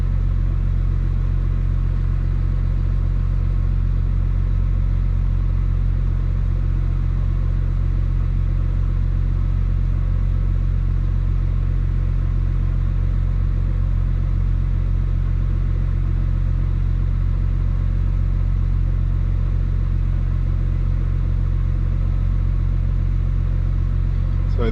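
A big single-turbo BMW 135i engine idles steadily, a loud, even low rumble that holds without change throughout, with no talking over it.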